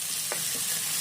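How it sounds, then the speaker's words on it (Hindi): Finely chopped green chillies frying in a pan, a soft, steady sizzle with one brief stirring scrape, close and quiet, no speech. "हरी मिर्ची को भी कुछ सेकंड के लिए भूनना है।"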